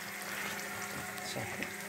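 Fish frying gently in oil over lowered heat, a soft, continuous crackling sizzle heard close but quiet throughout.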